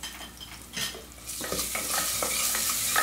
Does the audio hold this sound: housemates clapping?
no